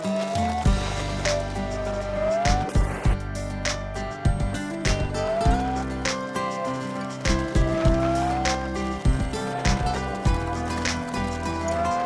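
A Dodge Viper cruising down a highway on a cross-country drive, with a steady engine drone and road noise, a rising-and-falling pitch from gear or speed changes, and scattered clicks and bumps throughout.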